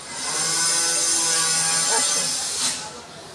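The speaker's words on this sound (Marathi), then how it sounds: "आता हेच चालू आहे वेल्डिंग वगैरे काहीतरी काम चालू आहे" Welding from a room renovation nearby gives a sustained, hissing wash with faint tonal whines that swell and fade over a few seconds, heard at moderate distance.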